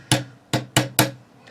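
Four sharp, close hammer taps seat a small part into its slot during rifle bolt disassembly, the strikes evenly paced with a short ring after each.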